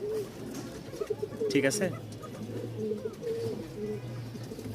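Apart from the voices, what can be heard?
Rajshahi Giribaz pigeons calling thinly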